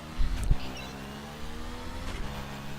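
Ducati Diavel motorcycle in The Crew racing game, its engine giving a sharp rev burst near the start, then settling into a steady mid-pitched drone with another brief swell toward the end.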